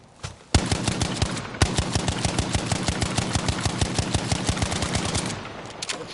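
A rifle fires rapid shots in Battlefield V, a long, evenly spaced run of sharp cracks that holds a fast, regular rhythm for several seconds, loud and close, then stops.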